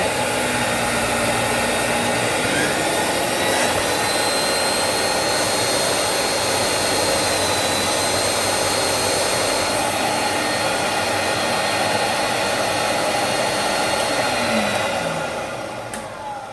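A DSZERO-A home carpet cleaning machine runs its two motors, whining in a loud, continuous drone that holds steady, then begins to wind down at the very end.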